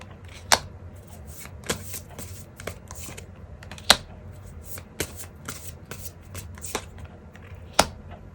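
Tarot cards shuffled by hand in a quiet room, a close, continuous soft riffle with several sharp snapping taps at irregular intervals, heard alone without any voice.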